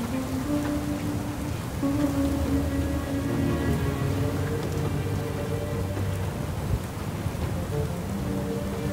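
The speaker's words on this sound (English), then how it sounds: "the storm is getting closer by the second" Steady rain pours down during a thunderstorm in the game Leisure Suit Larry, a dense continuous hiss with low rumbling beneath and faint musical tones layered over it.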